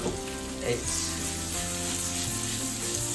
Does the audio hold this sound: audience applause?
no